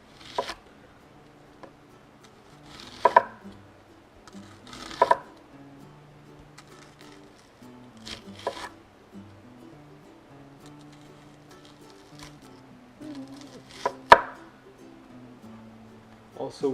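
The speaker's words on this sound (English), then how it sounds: "Also with the onion, same thing, I'm cutting it really, really small." A knife chops an onion into small bits on a board in scattered bursts of quick taps with long quiet gaps, with a voice talking faintly in between.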